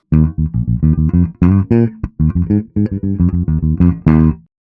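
A bass guitar plays a syncopated groove of short plucked notes, steady and upfront, with brief gaps between phrases and no voices.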